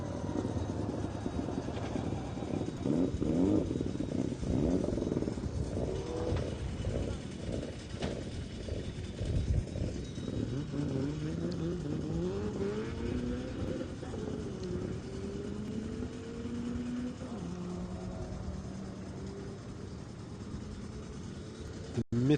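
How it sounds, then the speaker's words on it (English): Citroen Saxo driven hard at a hillclimb, its engine revving up through a series of rising and falling pitch sweeps as it changes gear, heard from moderately far off under a commentator's voice. "Paddy looks like quite a committed driver in the last couple of seasons, and yeah, wringing the neck of that Saxo."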